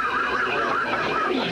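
A horse neighs in a 1982 Carta Blanca beer commercial, a wavering whinny heard loud and close over a dense, busy soundtrack.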